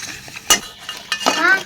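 Colourful homemade papad of rice and moong dal dropped into hot oil, giving short bursts of crackling sizzle with faint utensil clinks between quieter moments, close and alone.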